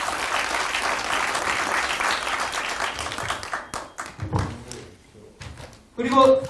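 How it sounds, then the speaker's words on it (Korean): An audience at a lecture on Gimhae's local history claps in a steady, fairly loud round for several seconds. Scattered knocks and a voice follow as it dies away. "여러분들 박수 한번 쳐주셨으면 좋겠습니다."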